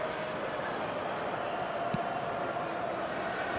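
Crowd noise from an eFootball video game match between Nigeria and Malawi, a steady, dense roar of stadium fans reacting, continuous and fairly loud throughout.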